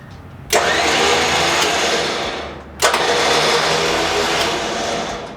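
A cheap overland winch motor under $400 runs in two steady whirring stretches. The sound is loud and near, with a brief pause between runs and no talk.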